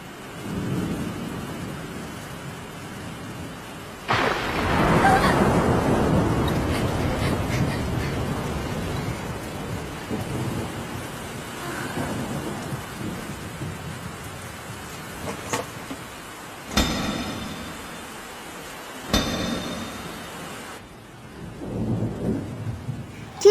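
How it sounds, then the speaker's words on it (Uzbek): Rain falls steadily in an anime scene while a loud thunderclap rumbles in around four seconds and fades slowly, followed by quieter rumbles and two sharp bright crashes later on. "Yomg'ir?"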